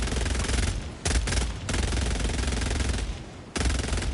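Weapon firing in the video game Helldivers 2, loud sustained automatic bursts with short pauses between long strings of rapid shots, close and dominant.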